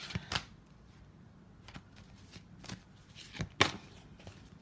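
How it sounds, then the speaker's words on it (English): Tarot cards being shuffled nearby, a series of quick riffling bursts and soft slaps spaced irregularly, fairly quiet. "then I'll shuffle the cards for you"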